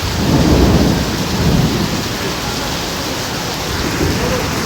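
Heavy rain pours steadily in Malaysia with low rumbling thunder beneath it, a dense, continuous wash of noise that swells slightly early on and stays loud throughout.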